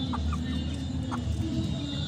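Hens on a farm cluck in a few short, soft bursts near the start and again around one second, over a steady, busy background murmur.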